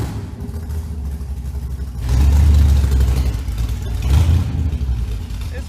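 A homemade junk buggy's engine idles with a rough rumble, then revs up loudly for a couple of seconds, eases back, and surges again briefly before settling, heard up close.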